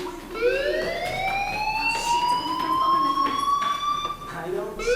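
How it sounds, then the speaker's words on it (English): A school fire alarm in the Life Is Strange video game wails as a rising and falling siren tone, steady and loud across the whole stretch, with voices talking underneath. "do you hear that fire alarm? That means you should be outside."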